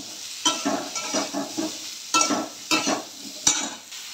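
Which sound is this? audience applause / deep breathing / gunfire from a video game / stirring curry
stirring curry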